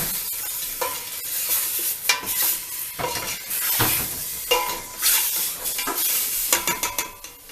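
A spoon stirs curry powder and salt into chicken in a pot over a steady sizzle, with repeated scraping strokes and occasional clinks against the metal, close and fairly loud, no talking.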